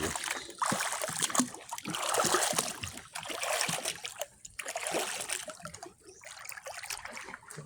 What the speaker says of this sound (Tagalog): Dito lang muna tayo mag strolling at magtampisaw sa ilog.